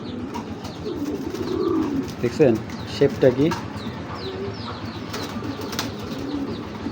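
A hurricane-style Sapchila pigeon, an old-breed Giribaz, gives a couple of short cooing bursts midway, close by, while someone talks over low background rustle.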